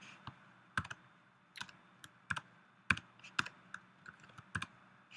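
Sparse, irregular keystrokes on a computer keyboard while writing Unity game code, individual clicks and clacks spaced out over several seconds, close and fairly quiet against a faint background hum.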